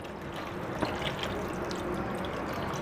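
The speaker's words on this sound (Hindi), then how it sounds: "एक बार फिर पानी ऐड करेंगे" Water poured onto minced mutton keema being washed in a kitchen, a steady close splashing trickle running for about three seconds with no talk.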